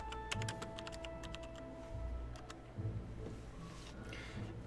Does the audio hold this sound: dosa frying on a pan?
no